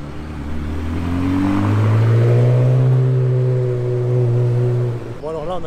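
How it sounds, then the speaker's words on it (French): Ferrari 360 Modena fitted with a non-original exhaust arrives, its engine note holding a loud, steady drone that swells and rises slightly before cutting off abruptly near the end. "Ah, 360 Modena qui arrive ici. L'échappement."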